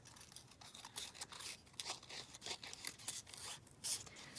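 Scissors cut roughly around a paper rose for a junk journal: close, quiet, uneven snips and rustling paper follow one another in quick irregular succession, with no talking.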